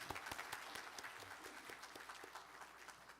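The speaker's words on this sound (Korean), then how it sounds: "우리 박수로 한번 감사 표하겠습니다" A church congregation at a Sunday worship service bursts into steady, dense applause, heard faintly from a distance and sustained with no voices over it.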